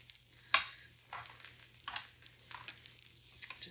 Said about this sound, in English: Now I'm just gonna go ahead and give them a flip all the way down the line.